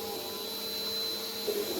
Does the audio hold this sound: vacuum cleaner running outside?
yes